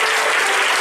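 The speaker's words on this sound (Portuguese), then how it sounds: "Uma salva de palmas para o nosso pastor Ismael." A congregation at an Assembleia de Deus church service, during a gathering of bands and choirs, breaks into loud, close applause in a brief, dense burst.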